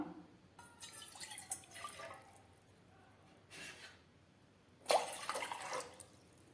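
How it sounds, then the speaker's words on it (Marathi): Two cups of water for black tea splash and pour in short bursts into a small pot, with quieter gaps between pours. "सर्वात आधी आपण त्यामध्ये दोन कप पाणी ओतूया"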